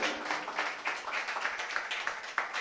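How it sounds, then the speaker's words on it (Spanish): A church congregation applauds during a Spanish-language worship service, a steady wash of many hands clapping together at moderate loudness for the whole stretch, with no voices standing out. "dale un aplauso al Señor, hermano"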